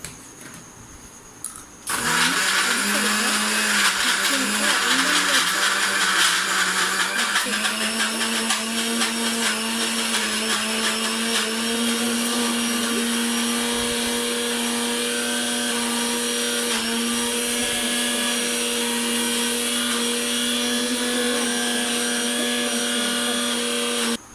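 Electric mixer jar grinding sugar, a loud steady whirring motor that starts abruptly after a brief quiet moment and runs continuously with a slight pitch rise, close and alone.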